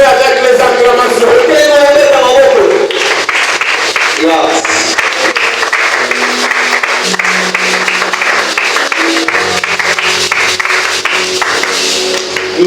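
A church congregation claps and cheers in a sustained wash of applause and crowd noise, following a loud sung or shouted voice at the start, with a preacher's voice continuing over the clapping.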